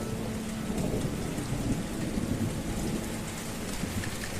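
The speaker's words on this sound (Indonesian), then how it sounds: "Di saat musim hujan tiba, air-air hujan yang jatuh akan mulai terkumpul dan mengalir pada talang air" Steady rain falls during the wet season, pouring into a gutter and flowing on toward a pipe and infiltration well; a dense, continuous hiss of drops with low rumbling underneath, loud and close, no voices.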